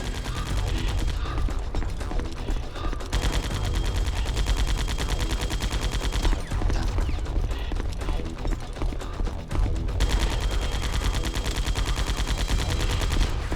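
Gunfire in Metal Gear Solid The Twin Snakes, a long run of rapid, evenly spaced shots with mechanical clatter, loud and continuous with brief pauses, nearly free of talk.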